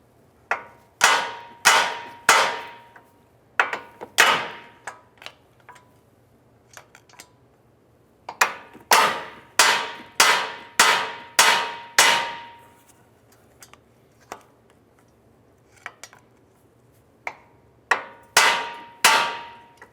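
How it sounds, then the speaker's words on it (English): Sharp metallic hammer blows ring out on a steel steering knuckle of a 2006-2011 Honda Civic in quick bursts of two to four strikes, loud and close, with short pauses between. "use a hammer and I'm going to strike the knuckle here"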